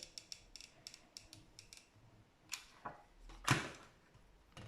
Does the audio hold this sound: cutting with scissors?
yes